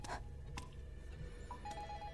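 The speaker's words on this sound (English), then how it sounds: "I hear a phone." A telephone rings in the horror game Incantation, heard as faint, distant electronic rings heard once or twice over low ambient rumble, with no talking.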